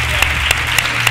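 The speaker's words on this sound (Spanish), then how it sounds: "Yo quería un aplauso," Audience applause at a televised singing-contest gala final in Jerez, a short steady patter of many hands with a few sharper claps standing out, close and dense.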